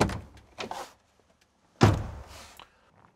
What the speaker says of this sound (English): opening the door in just one single action.